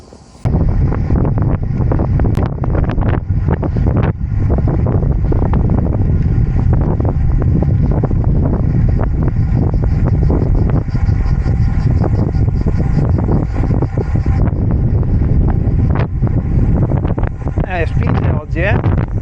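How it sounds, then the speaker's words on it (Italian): Strong wind roars into the microphone of a cyclist riding into a headwind toward a climb, a loud continuous buffeting rumble across the whole stretch, with a brief voice near the end. "Comunque c'è vento oggi"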